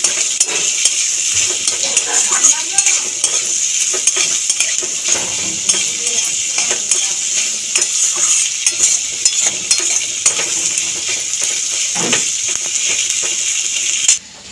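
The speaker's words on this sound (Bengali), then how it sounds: "পেঁয়াজটা নেড়ে চেড়ে ভেজে নেব।" Chopped onion with black cumin (kalo jeera) being stirred and fried in a pan for a prawn bharta, a loud sizzle broken by frequent scraping and clinks of a utensil against the metal pan, with no talking.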